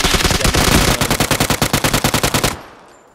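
A PUBG weapon rattles out a loud, close burst of automatic fire, steady rapid shots for about two and a half seconds before cutting off and fading into a short tail.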